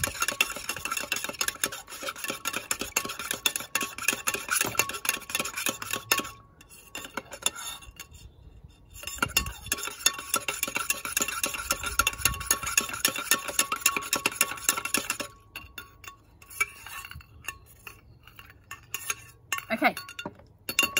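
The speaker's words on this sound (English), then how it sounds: "get our spoon and give it a really good stir" A spoon stirs gin with ginger and sugar in a glass, likely William of Orange gin, making a steady run of bright clinks and scraping rasps that pause briefly twice before resuming.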